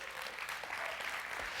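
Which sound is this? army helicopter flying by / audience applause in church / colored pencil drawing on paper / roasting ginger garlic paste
audience applause in church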